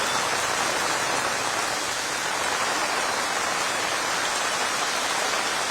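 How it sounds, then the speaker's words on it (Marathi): Heavy monsoon rain pours down at Shivaji Park, Mumbai, in a dense, continuous hiss, steady and unbroken from start to finish with no voices. "मुंबईमध्ये शिवाजी पार्क परिसरामध्ये सुद्धा मुसळधार पावसानं हजेरी लावलेली आहे"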